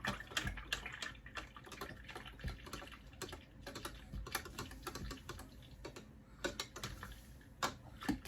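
Paint brushes are swirled and stirred vigorously in a jar of water, giving quiet clicking taps of bristles and handles against the glass with soft sloshing, close by and without talk.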